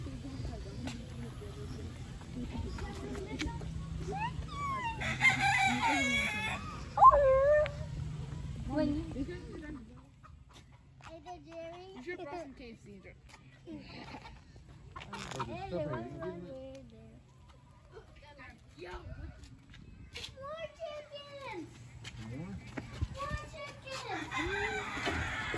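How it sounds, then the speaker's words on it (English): Chickens clucking and a rooster crowing at a farm stop during a day out in Kansas City, heard intermittently under children's chatter and adult talk. "Let's go look at the chickens."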